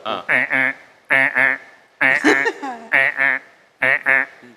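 A voice imitates a frog's croak in short, rhythmic paired bursts, repeated several times with brief pauses, close and clear.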